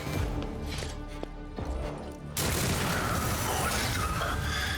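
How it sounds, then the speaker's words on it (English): A stun grenade goes off in the Warhammer 40,000: Rogue Trader video game, a sudden loud burst that swells into a sustained rumbling blast after a stretch of lower game noise. "Oh, stun grenades."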